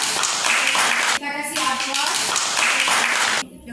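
Applause for a group presentation: a dense burst of clapping from a group, broken briefly by a short voice in the middle, then fading out near the end.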